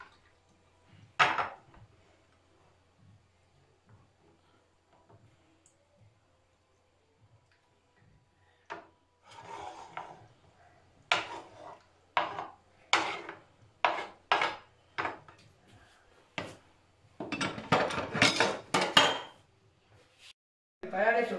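A knife scrapes a plate clean in a quiet kitchen, a series of short, separate scraping strokes that quicken and bunch together toward the end.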